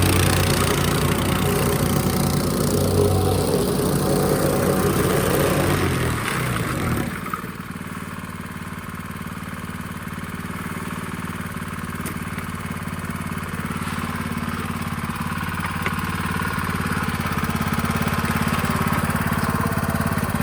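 A Honda GX160 small engine runs loud and steady with a rough, busy tone, then settles into a smoother, lower idle-like drone that continues to the end. No one speaks.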